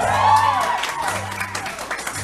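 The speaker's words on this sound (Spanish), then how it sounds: "Pido otro aplauso para la maestra Olivia" An audience at a school event gives a teacher a short burst of applause that fades out, with a voice speaking over the clapping.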